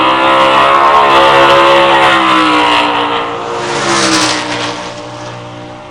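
A late model Camaro from Beverage Racing launches down a drag strip, its engine roaring loud and close at full throttle with a strong steady drone, then the sound dips and swells again as the car pulls away.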